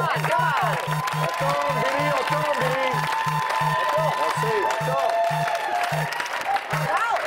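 Studio audience applause on a French-language TV game show, steady and moderate, mixed with a rhythmic studio music beat and tonal jingle-like sounds.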